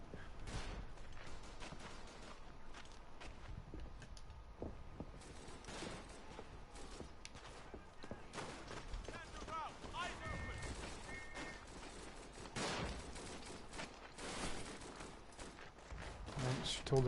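Distant gunfire from an enemy light machine gun in a WW1 first-person shooter set at Verdun, scattered shots and bursts crackling through a busy battlefield din, with game noise continuing throughout.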